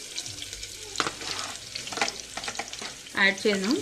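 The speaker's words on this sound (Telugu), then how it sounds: "ఆయిల్ హీట్ అవ్వక ముందే మనం ఆనియన్స్ కూడా యాడ్ చేసేసుకుందాము" Onions and green chillies frying in hot oil in a home kitchen while mutton curry is being prepared, a steady sizzle broken by scraping stir strokes and a few sharper clatters near the end, with no talking.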